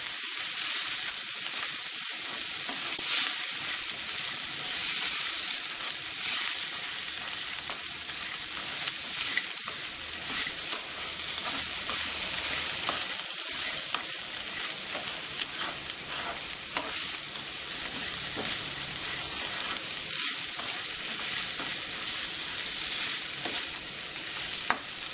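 Cauliflower fries in a pan for a spicy pepper dish, a dense steady sizzle with scraping stirring strokes running throughout, close and loud, with no talking.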